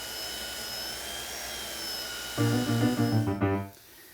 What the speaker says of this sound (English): the best tool for this is going to be a belt sander